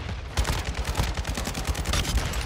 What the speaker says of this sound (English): This is really just spawn and shoot at people.